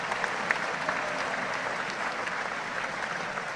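A large audience applauds at the inauguration of Startup Conclave 2025 at Mahatma Mandir, Gandhinagar, a dense and even wash of clapping from a big hall that carries on without a break.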